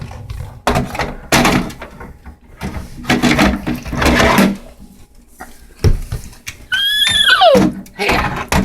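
Horses are loaded at a stable, with hooves thumping and clattering on boards, metallic bangs, and a loud whinny near the end, mixed with shuffling and faint voices.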